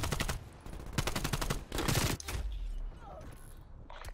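LC-10 submachine gun fire in Black Ops Cold War: several fast bursts of automatic shots, some overlapping and fairly loud. The bursts are mixed with other busy game noise.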